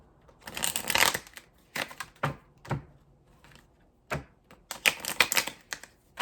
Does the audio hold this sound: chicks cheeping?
no